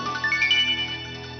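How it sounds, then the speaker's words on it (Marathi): An electronic phone ringtone plays a rising melodic tune, steady and fairly close, with no voices over it. "सुहासचा फोन आहे."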